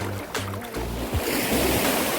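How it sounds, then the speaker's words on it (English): Sea surf washing onto a beach in Jamaica where the water has eroded the sand up toward the huts and shop, a steady close roar of waves with gusts of wind on the microphone. "As you can see, this is the Great Elsha Beach."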